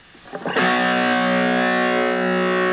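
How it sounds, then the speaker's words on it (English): A heavily distorted electric guitar chord from a Valeton Dapper Mini effects strip, played through a Bose S1 PA speaker, rings out after a few short plucks, sustaining with a thick, buzzing tone. "And of course distortion."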